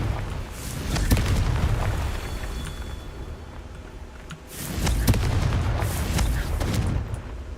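Fiery explosions from the Confringo spell in Hogwarts Legacy, deep booming blasts in two loud swells with sharp cracks on top, no talk.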